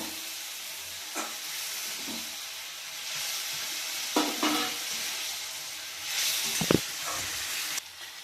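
Gravy and water for chilli corn being stirred in a pan: soft intermittent scraping and stirring strokes over a low sizzle and hiss, louder toward the end, no voices.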